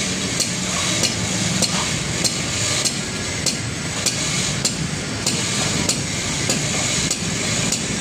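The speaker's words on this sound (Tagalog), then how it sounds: "pinupukpok na po nila guys kasi malalim po yung pinagbabaunan kasi nito" Steel posts are hammered deep into the ground, repeated metallic blows ringing out at a steady rhythm roughly every half second over a noisy outdoor background.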